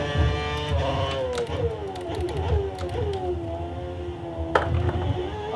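An F1 car engine revving in the F1 2013 racing game, a steady high whine with rising and falling pitch sweeps, loud and close with a sharp click near the end.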